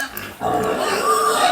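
Grower-stage fattener pigs grunting on a farm, a steady mix of nearby grunts and snuffles that swells after a brief quieter start and continues without pause.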